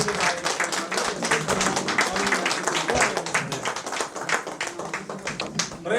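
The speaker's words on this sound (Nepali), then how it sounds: "सबैजना उठेर एकचोटि ताली बजाइदिनु" Dense, steady clapping from an audience at a formal gathering, many hands applauding together with some sharp individual claps, continuing throughout with a voice faintly heard over it.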